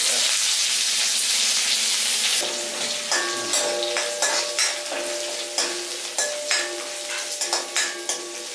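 Onions fry in a pan for a Kerala-style cucumber curry, with a strong hiss at first, then steady sizzling punctuated by repeated metallic clinks of stirring against the pan.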